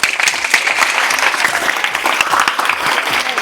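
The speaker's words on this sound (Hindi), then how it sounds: "चलिए गुरु के लिए एक बार ताली मार दीजिए आप लोग" Loud, steady applause from a crowd, dense clapping sustained throughout with no pauses.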